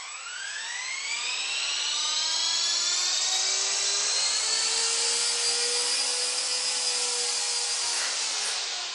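An Esky King V3 (Honey Bee HBK3) 2.4GHz RC helicopter hovers with a loud, steady high-pitched whine that rises slightly in pitch and holds through the whole stretch, with no talk.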